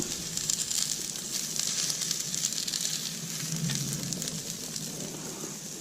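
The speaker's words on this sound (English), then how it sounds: "we'll let that sear a little bit on that side" Fish sear in a hot frying pan, a steady close sizzle with crackling spatter that holds throughout, no talking.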